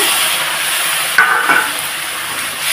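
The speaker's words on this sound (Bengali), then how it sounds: "এখানে আমি একটু হালকা করে জল দিয়ে দিচ্ছি, একটু জল দিয়ে একটু কষিয়ে নেব" Mustard masala sautéing in a pan after a splash of water is added, with a loud continuous sizzle and hiss and a few soft stirring scrapes near the middle.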